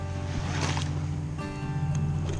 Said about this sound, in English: And then we had a barge come by